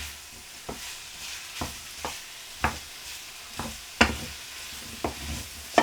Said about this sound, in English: Keep it stirring and frying, you don't want anything to burn.